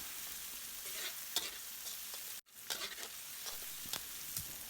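Garlic, shallots and curry paste stir-fried in hot oil, a steady close sizzle with spatula scrapes and one brief silent cut partway through.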